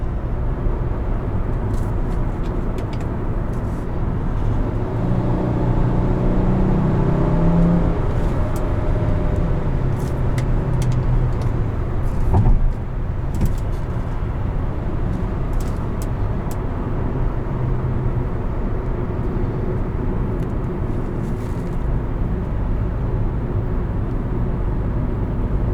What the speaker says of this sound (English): It sounds like a V10.